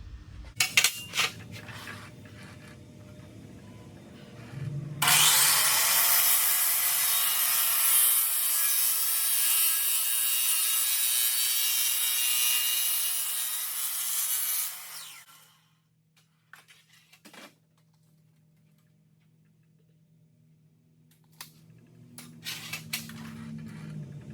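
A hand saw cuts through metal pieces for a build in a loud, steady rasping stroke lasting about ten seconds, preceded and followed by quieter handling clatter.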